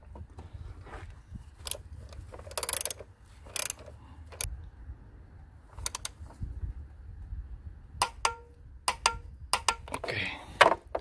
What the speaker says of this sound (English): now everything's snuck by hand, so I can grab my torque wrench